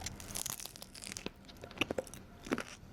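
Crisp crunching and crackling from a bite into a fried dumpling filled with juicy minced meat and shiitake mushroom, several sharp close crackles over soft handling noise, quiet and without speech.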